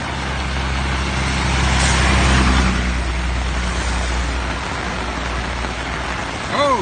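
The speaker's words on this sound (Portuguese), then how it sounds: "Chuva, mais chuva, chuvinha maravilhosa." Heavy afternoon rain pours onto a city avenue in Sobral, Ceará, as a steady, loud wash of broadband hiss, with a vehicle rumbling past low underneath and a brief squeak near the end.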